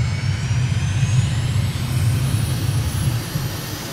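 Jet aircraft engine in a flight simulator touch-and-go landing, a steady low roar with a faint high whine held throughout, loud and continuous with no talking.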